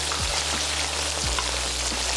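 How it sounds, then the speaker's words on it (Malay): Steady, loud sizzling and crackling of chicken pieces frying in hot oil until golden and crisp, a continuous hiss with small pops throughout. "Lepas tu goreng ayam sampai keemasan dan rangup kulitnya kedua-dua bahagian."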